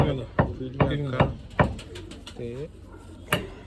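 Pigeons being handled and lifted out of a net give soft, close coos and brief wing flutters in short bursts, with quiet handling knocks between them.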